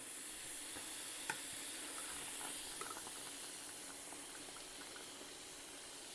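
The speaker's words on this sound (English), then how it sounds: "I'm going to let all of that boil away" A pot of cooking liquid with a carrot, part of a braised tongue dish, boils away with a steady bright steamy hiss and sizzle and occasional faint clinks, moderately close and with no talk.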